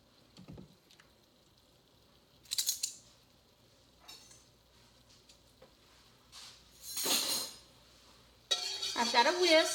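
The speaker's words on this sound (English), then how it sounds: "I've got a whisk, and I'm going to mix it up into my butter." Whisk clinking in a pan while honey is mixed into melted butter, with scattered metallic scrapes and taps, a few louder bursts of stirring, and a brief sizzle at the end.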